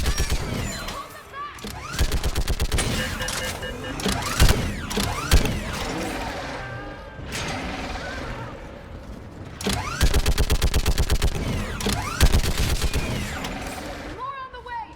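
A mounted turret gun in Mass Effect 3 fires long rapid rattling bursts, loud and close, broken by mechanical clanks and creaks between volleys amid battle noise, with shouted voices over the fire.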